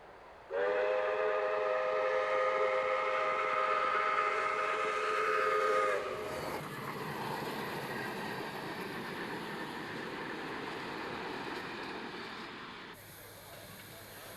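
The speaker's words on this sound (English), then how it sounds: "the train is passing under Brunel Street Bridge" South Australian Railways steam locomotive 621, a light Pacific running on Victorian track in 1994, sounds a long harmonic whistle before passing under a bridge with a loud sustained rumble and hiss that fades toward the end.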